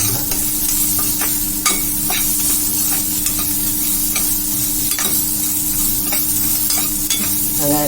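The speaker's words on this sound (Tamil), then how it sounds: "வெங்காயம் நல்லா பச்சை வாசனை போட்டு கொஞ்சம் நல்லா வதங்கணும்" Onions and green chillies sauteing in hot oil, a loud, dense, continuous sizzle with repeated spatula scrapes and clinks from stirring, close up and without any talking.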